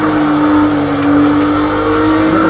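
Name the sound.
race car driving through corners in video game Project Cars 2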